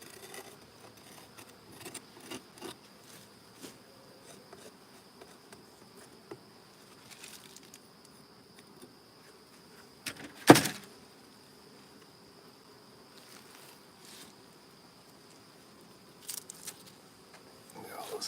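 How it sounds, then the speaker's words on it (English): Honey bees buzz faintly around open hives in a fall bee yard, a soft steady hum with scattered nearby fly-bys and a few clicks and knocks. "Look at all those nice bees there."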